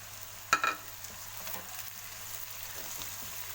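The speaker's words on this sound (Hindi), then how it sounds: "इसको अब थोड़ा सा और फ्राई करते" Jeera aloo potatoes frying in a pan over a lowered flame, a faint steady sizzle with a couple of short utensil clinks early on, then quiet crackling.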